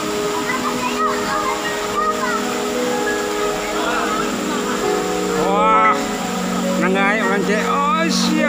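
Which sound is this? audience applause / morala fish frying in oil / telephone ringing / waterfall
waterfall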